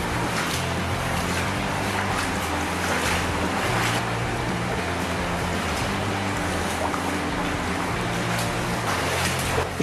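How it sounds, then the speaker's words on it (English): Underground cave stream cascading down a 6 metre waterfall, a loud, unbroken roar of rushing, splashing water that stays constant from start to finish. "the stream cascades down a 6 metre waterfall"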